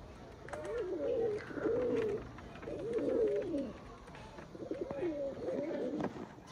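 Pigeons coo close by in a series of throaty, rolling calls, about four bursts over a steady outdoor background, during a pigeon-flying contest.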